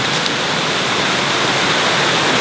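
Sacred river in Bali flowing steadily, a constant broadband rush of water that stays even and close throughout with no other sounds.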